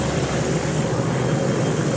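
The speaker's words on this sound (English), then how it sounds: "This turbo trainer from Pilatus flies over 400 kilometers per hour fast and is extremely agile." Pilatus PC-7 turboprop trainer in flight, heard as a steady, loud, droning propeller and engine roar from on board, with no talking.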